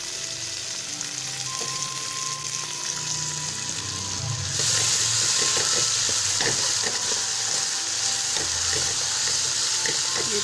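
Green chillies sizzle and fry with onion, potatoes and eggs in a pan, a steady close hiss that gets louder partway through, with soft stirring taps and no talking.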